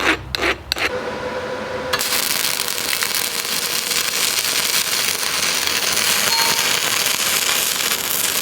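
Arc welding a lap joint on metal plates: after a few brief sputters, a loud continuous crackling, sizzling buzz runs unbroken for over six seconds, close and alone.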